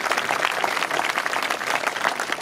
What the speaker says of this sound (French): Donc applaudissez ces jeunes